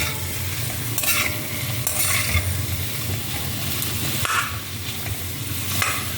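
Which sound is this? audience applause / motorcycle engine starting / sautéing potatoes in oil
sautéing potatoes in oil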